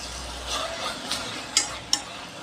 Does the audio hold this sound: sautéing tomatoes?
yes